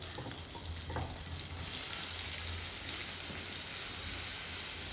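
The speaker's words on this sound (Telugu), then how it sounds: "ఈ ఉల్లిపాయల్ని మనం గోల్డెన్ బ్రౌన్ వచ్చే వరకు వేపుకోవాలి" Onions sizzle in hot oil with mustard seeds, cumin and green chillies, a steady close frying hiss throughout with faint stirring underneath.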